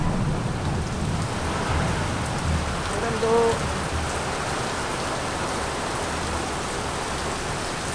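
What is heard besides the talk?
heavy rain and strong wind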